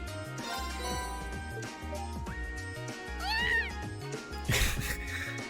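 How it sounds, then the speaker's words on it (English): A cat in the video game Trails of Cold Steel gives a few high, bending meows over steady background music, with a brighter burst near the end. "This cat's meow is hilarious."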